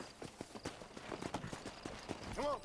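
Horse hooves clip-clop in steady repeated beats in the Red Dead Redemption video game, close and moderately loud, with a brief tonal game sound near the end.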